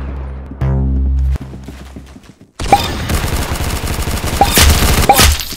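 Gunfire rings out in sharp, loud bursts, rapid shots clustered into a fusillade after a loud droning stretch and a brief silence, echoing close by without talk.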